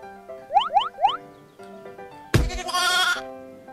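A sheep bleats three quick times in a row, each wavering call rising in pitch. After a short pause comes a sudden loud, noisy burst with a bright, sustained tone.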